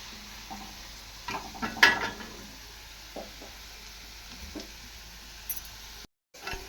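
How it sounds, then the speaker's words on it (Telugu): Ragi flour pakoda sizzling in hot oil, a soft steady frying crackle with a few sharper pops and stirring scrapes, close and fairly quiet, with no talk. "పకోడీ మాత్రము మొత్తం అయితే కాల్చేద్దాము"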